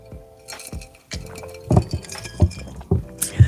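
Drinking glasses clinking together in a toast, several bright ringing taps in quick succession, close and clear, with no talk over them.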